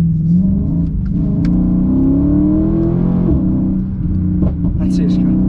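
A 540-horsepower sports car engine roars up through its revs in third gear on a wet road close by, the pitch climbing steadily before dropping briefly and building again, with a voice talking underneath.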